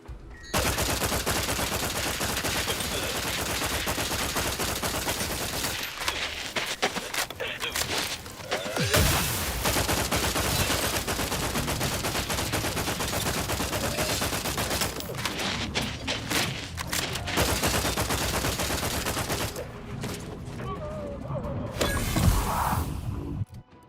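Rapid automatic gunfire in The Outer Worlds 2, dense sustained bursts with mechanical clatter and brief pauses, loud and continuous with occasional distant voices underneath.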